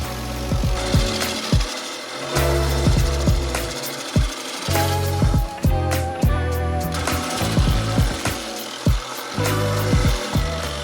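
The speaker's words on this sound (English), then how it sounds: "Stump grinder and planer might sound like a firm of lawyers, but no, it's simply the job description of this machine." A stump grinder and planer machine works loudly and steadily, its dense engine drone broken by repeated sharp knocking impacts in an irregular rhythm, with no voices.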